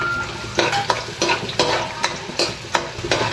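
Onions sautéing in hot oil for Tagalog-style menudo sizzle close by, with repeated rhythmic bursts of spatula scraping and stirring about every half second.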